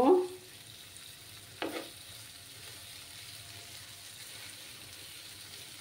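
A vegetarian dish with added sugar is stirred in a pan: a short scrape at the start and another a little later, then only a faint, steady sizzle.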